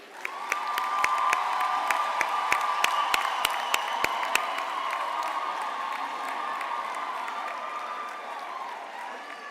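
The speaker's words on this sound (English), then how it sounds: "let us once again congratulate our graduates with a huge round of applause" A large graduation ceremony audience breaks into sustained applause with cheering and whoops, dense clapping filling the hall, a few sharp individual claps standing out early, then settling into a steady roar of crowd noise.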